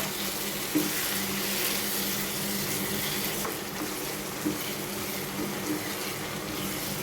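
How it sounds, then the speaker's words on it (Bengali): Beef achar cooking over heat in a pan, a steady broadband sizzle and bubbling with a faint low hum, with a few soft clinks of a spoon against the pan, continuous and close. "এখন আস্তে আস্তে এটাকে জাল দিব।"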